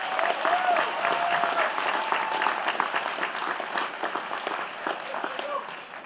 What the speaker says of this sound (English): So please join me in applauding these great people.